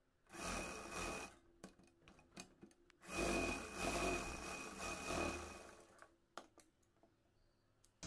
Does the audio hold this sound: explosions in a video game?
no